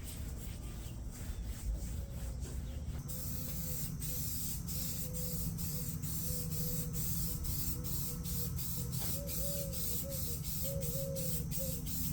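Aerosol spray paint hisses steadily onto a kayak during camo painting, a continuous close spray with brief pulses and faint rattles running through it.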